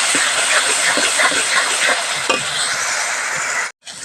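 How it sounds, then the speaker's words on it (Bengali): Country chicken sizzles and hisses steadily while being stirred and fried with salt and turmeric, a dense close frying noise with scraping strokes, ending in a brief silence. "এবার লবণ হলুদ দিয়ে এটা কষাতে থাকবো"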